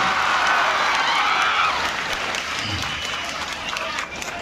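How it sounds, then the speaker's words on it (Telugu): An audience at a gathering applauding loudly, a dense sustained wash of clapping that holds steady, then eases slightly toward the end. "గట్టిగా చప్పట్లు కొట్టి జయజయపడాలి"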